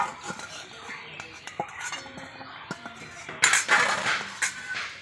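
Metal utensils clink and tap against a pot in scattered, irregular strikes as boiled sweet potatoes are lifted out, growing louder and more clattering toward the end.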